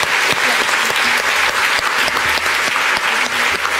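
A conference audience at a talk on feminist activism in the garment industry gives a steady round of applause, dense clapping from many hands that stays loud and even throughout without any voices.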